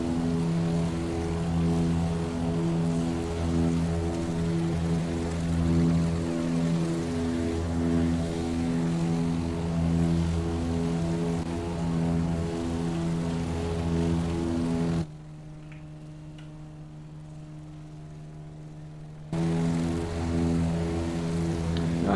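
Twin radial engines of a DC-3 propeller airliner at full throttle in a flight simulator, a steady loud droning hum with layered harmonic tones throughout, briefly dropping to a thinner, quieter tone for a few seconds before the full roar returns.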